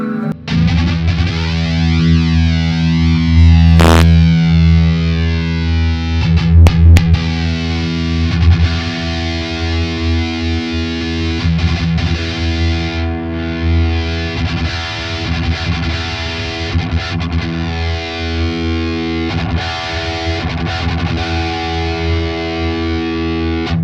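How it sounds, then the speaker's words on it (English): Heavily distorted electric guitar chords ring out with a sweeping, whooshing flanger effect, loud and sustained, with several strums over the stretch. "I'll just try a flanger, I guess"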